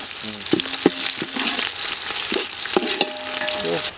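Bay leaf and cumin sizzle in hot oil with a steady broadband crackle, broken by a few sharp clinks of a utensil against the pan and brief tonal scrapes.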